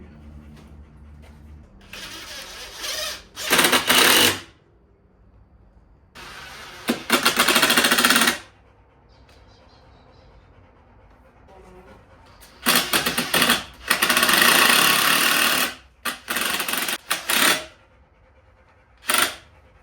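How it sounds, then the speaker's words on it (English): Power drill driving new screws into a chair during reassembly, several loud bursts of high whirring separated by quiet pauses, close by. "now I'm just putting it back together. Putting in all new screws."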